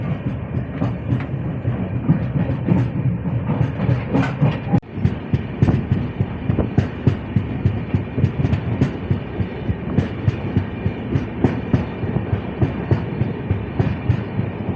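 Amravati SF Express train No 12111 travelling toward Amravati, a loud, close, continuous rumble with rapid rhythmic clickety-clack of wheels over rail joints, briefly dipping once before resuming.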